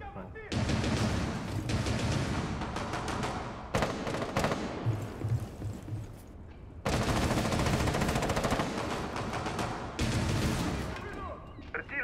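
Loud, sustained automatic gunfire in a video game, dense bursts broken by brief pauses.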